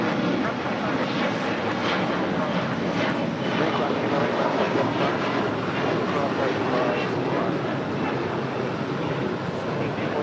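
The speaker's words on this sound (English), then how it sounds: "Chicago Airline Flight 223 coming in from Shanghai, 777 freighter" A Boeing 777 freighter arriving at LAX from Shanghai makes a loud, continuous broadband jet roar that holds steady throughout, close and dominant.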